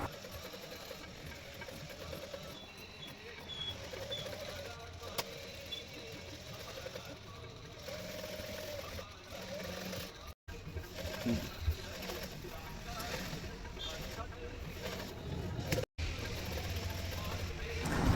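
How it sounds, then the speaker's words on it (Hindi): A sewing machine does double-thread stitching on a Royal Enfield Hunter 350 motorcycle seat cover, its motor running in a faint, steady hum with short pauses, under someone talking in the workshop. "उस साइड की सिलाई है, बड़ी सावधानी के साथ करी जा रही है।"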